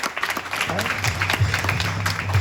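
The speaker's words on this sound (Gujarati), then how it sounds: "એક જોરદાર તાળી પાડે પાળક સાહેબના માટે" A church congregation at a revival meeting claps for the pastor, a moderate spread of applause under a voice speaking through much of it.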